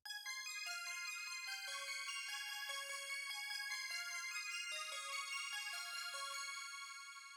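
A bright synth arpeggio in a rage beat cascades through quick, evenly spaced high notes in a repeating pattern, played alone and clean for several seconds before fading slightly at the end.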